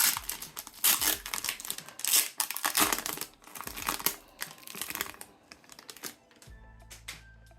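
A One Piece card booster pack is torn open from a numbered exclusive box, with loud close crinkling and ripping of foil packaging in rapid bursts that ease into quieter handling at the end.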